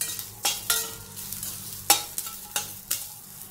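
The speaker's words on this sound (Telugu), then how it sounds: "ఇప్పుడు 1 స్పూన్ ఆయిల్ వేసుకుని పచ్చిమిర్చి వేసుకుందాం. ఇవి 1-2 నిమిషాలు వేపుదాం." Green chilies frying in a spoonful of oil, a soft steady sizzle punctuated by several sharp scraping stirs of a spoon against the pan, no voices.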